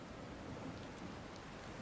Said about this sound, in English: The storm rages on, showing no sign of subsiding.